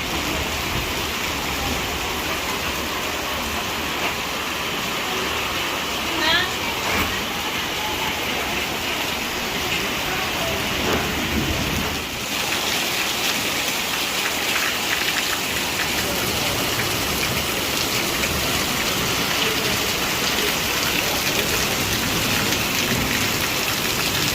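Steady unseasonal rain falls in the Garbada town area, a dense, continuous hiss of drops on surfaces that holds evenly loud throughout with no voices.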